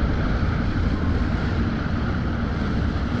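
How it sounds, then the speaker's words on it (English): Submersible air tanks flooding with sea water make a steady, loud, broadband rushing roar that holds even and unbroken throughout, dense like heavy water and wind noise, with no voices present. "That's the sound of our air tanks flooding the sea."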